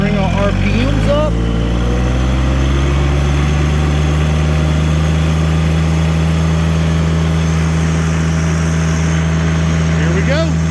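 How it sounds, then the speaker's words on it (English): Tractor engine on an organic farm running with the PTO engaged, a loud steady low drone with a constant hum that holds for the whole stretch, close and dominant. "Bring our RPMs up."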